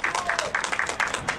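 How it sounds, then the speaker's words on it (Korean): An outdoor crowd at a cultural rally for striking laid-off Jaeneung workers claps to welcome a guest: a modest round of distinct hand claps in a loose, uneven rhythm, moderately near and fairly quiet, with no speech over it. "큰 박수로 모셔봤으면 좋겠습니다."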